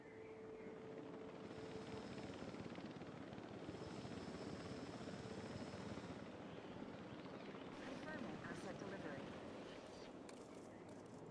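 A helicopter flies animals in within Jurassic World Evolution 3, a steady, rumbling rotor drone that holds evenly throughout, faint and alone.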